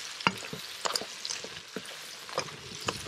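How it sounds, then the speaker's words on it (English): Quiet scraping and clinking of a utensil stir-frying curry blue crab with fresh curry leaves in a pan, with soft sizzling and irregular taps throughout. "Go ahead and finish stir frying them."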